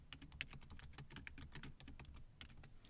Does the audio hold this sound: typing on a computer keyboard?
yes